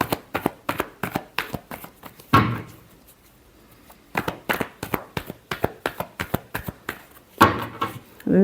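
Tarot cards are shuffled close up for a reading, a brisk series of sharp riffling slaps in two bursts separated by a quiet gap, each group ending in a louder cascading swish.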